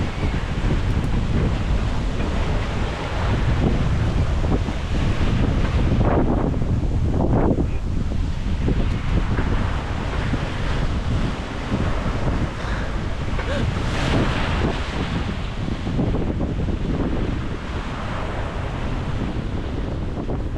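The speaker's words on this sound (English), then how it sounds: "Wind is picking up and so is the sea state." Strong wind roars across the microphone while short waves slosh and slap steadily against a sailboat's hull at sea in a channel, continuous and loud throughout.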